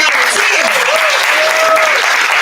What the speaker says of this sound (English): Huge round of applause for our final